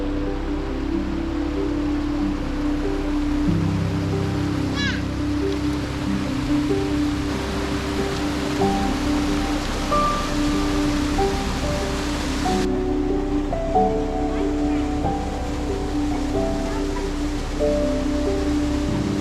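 Waterfall at Koreelah National Park, a steady broadband rush of falling water that fills the whole scene, loud and continuous with no pauses or voices.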